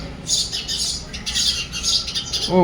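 Sparrow chicks calling at the nest, with about three chicks present, giving repeated high, scratchy squawks and chirps in close, rapid bursts, as a voice begins right at the end.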